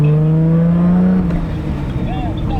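A Toyota Supra MK4 engine holds a loud, steady high-RPM drone close by, then drops off into rougher rumbling idle with a brief rising whine near the end.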